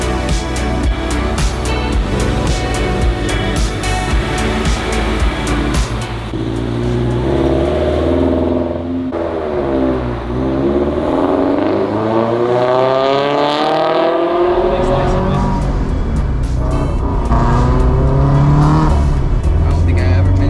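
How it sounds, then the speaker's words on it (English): A loud turbocharged Scion FR-S engine revs hard from inside the car, rising and falling in pitch with repeated sweeping climbs, while people talk over it. "I don't think I ever been into a car that's this loud"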